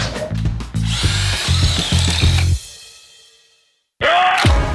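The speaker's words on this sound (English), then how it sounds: "Try that, Steve, so you're going to get a bit more of a drill out of that." A power drill revs in short, loud bursts, winds down to silence, then starts up again abruptly.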